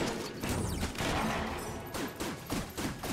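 Gemini rifle gunfire in the Enter the Gungeon video game rattles out in several rapid bursts of crisp shots, fairly quiet and evenly spaced over a few seconds.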